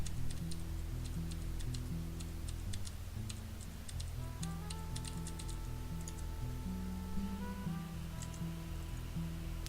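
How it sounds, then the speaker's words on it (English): Light, rapid tapping on a computer keyboard while playing PUBG, steady clicks continuing throughout over sustained background music, close and fairly quiet. "You hear me tapping the keyboard there just because I'm bored."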